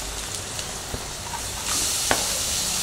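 Carrots stirred into onions already frying in a pan for carrot rice, giving a steady close sizzle with a few soft scraping knocks from the utensil.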